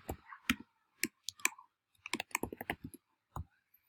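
Code is typed on a computer keyboard in irregular bursts of crisp, close clicks with short pauses between keystrokes, heard alone without talk.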